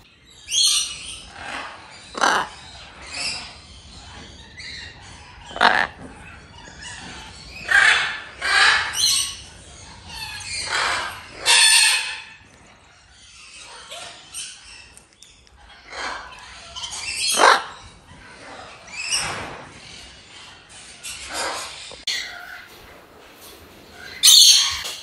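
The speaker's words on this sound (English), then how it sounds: "We have macaws inside here." Macaws in a metal aviary give repeated harsh squawks and calls, loud and close, coming in irregular bursts with short gaps between them.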